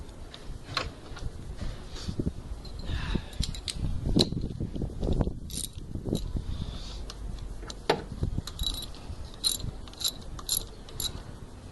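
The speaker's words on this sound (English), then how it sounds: "I'm going to need my torque wrench for this one." Torque wrench and tools clicking and ratcheting during a cam belt change on a Vauxhall Astra Mk4, with irregular mechanical clicks, taps and rattles at close range and no talk.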